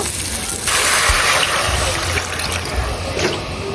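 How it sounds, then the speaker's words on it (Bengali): Water poured into a pan of fried beef paya, a short gushing splash rising over the sizzle of the hot pan, close and fairly loud. "এখন আমি পানি দিয়ে দিব"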